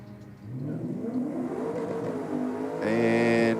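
A Datsun on a drag strip accelerates hard down the lane, its engine note climbing steadily and getting louder near the end of the run, heard from trackside with no talk.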